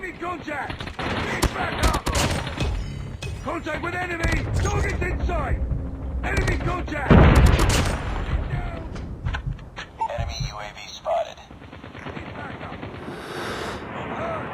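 Call of Duty gunfire in rapid bursts and single shots, loud and clustered through the first half with a heavy blast in the middle, mixed with players' excited talk and gasps.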